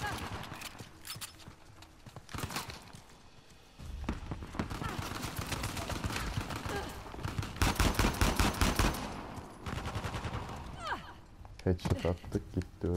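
Bursts of gunfire from the video game Uncharted: The Lost Legacy, rapid clattering volleys in several clusters, loud and dense, with a player talking over the action.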